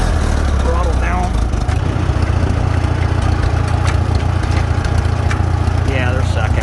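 A Farmall Super M-TA tractor engine pulls up a hill in second gear with a loud, steady, low rumble and a constant drone that runs through the whole stretch.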